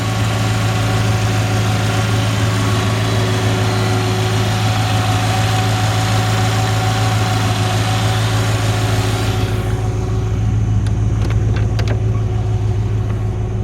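Steady, smooth idle from the 265 V8 of a 1956 Chevrolet Bel Air, close and even throughout, with a few faint clicks and a slight change in tone near the end.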